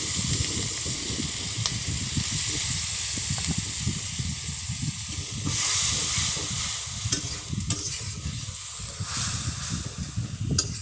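Mustard and green chilli paste thinned with a little water fries in oil with a loud, dense crackling sizzle and a steamy hiss, with occasional stirring scrapes throughout.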